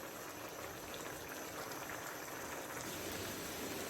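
Mutton karahi simmering in a wok as its liquid cooks down, giving a steady, faint, even bubbling and sizzling hiss with no voices.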